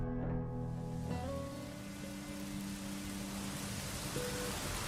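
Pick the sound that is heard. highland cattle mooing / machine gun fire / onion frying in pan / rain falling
rain falling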